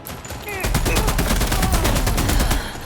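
Sustained automatic gunfire in a sci-fi shooter video game, a rapid loud burst of repeated shots running about two seconds with a heavy low rumble beneath, alongside faint voice chatter.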